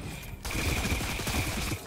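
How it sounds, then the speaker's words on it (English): Gunfire in Fortnite Chapter 3 battle royale: after a brief lull, a dense rattling stream of rapid shots keeps going steadily and loudly to the end. "who's shooting at me?"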